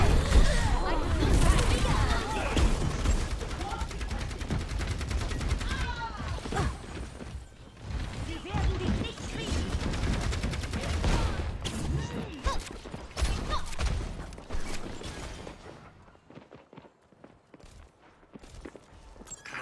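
Rapid weapon fire in the Overwatch 2 video game during a ranked match, with dense bursts of shots and impacts through most of the stretch and game effects underneath. The firing thins out toward the end.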